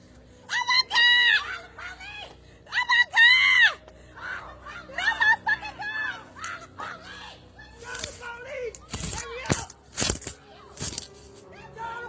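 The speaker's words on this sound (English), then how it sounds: "All you hear are screams and people yelling for someone to call the cops." People scream and wail in a disturbing recorded incident, several high shrill cries in bursts early on, then shouting voices and sharp loud knocks and bangs later, fairly close and chaotic.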